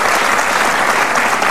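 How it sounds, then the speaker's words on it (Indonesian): A television studio audience bursts into loud, dense applause for a brief moment, a continuous close wash of clapping with no voices on top. "Tepuk tangan."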